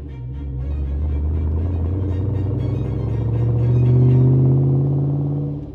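A Defender 110 with a 6.2 L96 V8 and six-speed automatic idles and runs with a deep, steady engine rumble, close and loud, swelling slightly mid-clip before easing off, with no talk.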